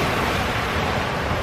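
Big ocean waves crashing and washing up at Laguna Beach, a loud continuous surf roar close to the microphone, with some wind buffeting mixed in and no talking.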